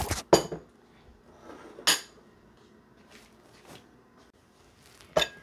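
A metal tablespoon clinks against a container while three tablespoons are measured out for a home remedy: a few sharp, bright clinks spaced a second or more apart, with quiet handling in between.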